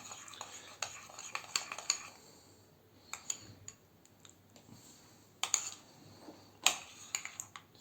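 A homemade peel-off face mask mixture is whisked and stirred in a small bowl: quiet, irregular clinks and rapid tapping of a utensil against the container, with short pauses between bursts.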